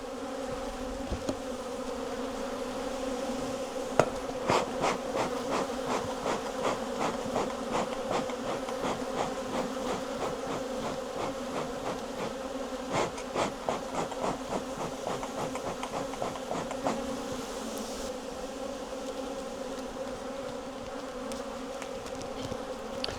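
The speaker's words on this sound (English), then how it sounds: "Sign of some very, very defensive bees though." A dense, continuous buzzing of many very defensive honeybees close by at an opened hive, rising and falling in intensity with sharp agitated zips throughout.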